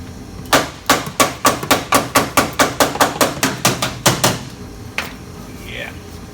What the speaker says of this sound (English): Where's that hammer? Just tap the taparoo.